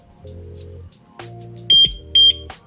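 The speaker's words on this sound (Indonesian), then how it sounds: "caranya, dia mengarm sendiri dengan bunyi satu kali" Motorcycle alarm arming tones on a Yamaha NMAX scooter with two short, loud, high-pitched beeps standing out near the end, close and sharp.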